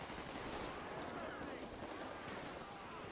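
A street shootout in LSPDFR, a modded police game, carries faint, fairly distant bursts of gunfire with rapid, machine-gun-like rattles blended into the background while people talk.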